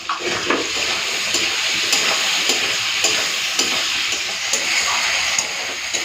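Spices and potatoes frying together for a rohu fish curry, a loud, steady sizzle with rhythmic scraping taps of a spatula stirring the pan, close up and without talk.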